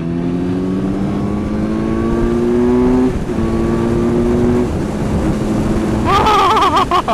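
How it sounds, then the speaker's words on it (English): A Kawasaki Z900 motorcycle engine revs up steadily under acceleration, its tone climbing through the gears, with a brief dip before it winds up again, then wind and a voice cut in near the end. "the Z900, I've got to wind this up"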